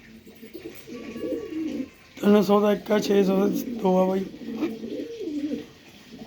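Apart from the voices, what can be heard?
pigeons cooing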